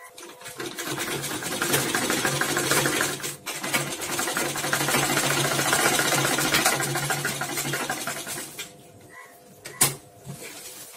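A tailoring sewing machine stitches gents' trousers in an L-shaped seam, whirring in long close runs with a brief pause, then stopping near the end before a sharp click.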